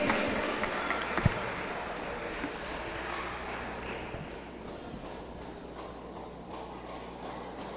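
An audience at a Collège Toussaint Louverture quarter-final claps for a player introduction, sustained dense applause that fades slowly over several seconds.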